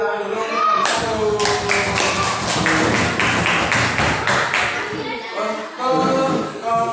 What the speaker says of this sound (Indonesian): Kita kasih tepuk tangan dulu untuk satu.